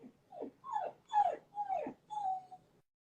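A pet dog whimpers indoors after a day at the dog park, five distinct rising-and-falling whines in quick succession, close and fairly soft, with no one talking.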